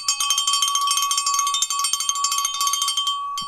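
A hand bell rings rapidly and continuously, bright and loud close up, a steady metallic jangle for a few seconds before stopping.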